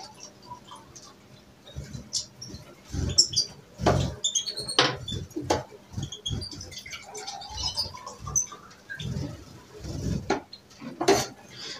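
Mixed seeds are poured and scooped into bird feeder cups, giving scattered rattling patters, light plastic clicks and small knocks in a quiet room with no talking.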